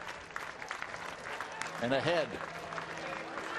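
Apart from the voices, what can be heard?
baseball stadium crowd cheering with bases loaded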